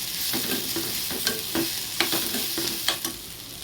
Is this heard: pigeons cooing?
no